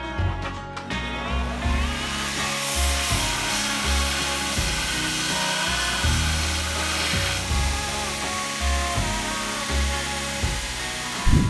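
Ends of metal cooking stone handles squared on a power sander, a continuous whirring grind with short pulses as pieces are pressed on and lifted off, close and fairly loud.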